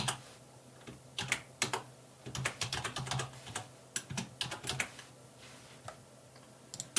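Code typed on a computer keyboard, quick irregular bursts of close key clicks with short pauses between runs and no voice over them.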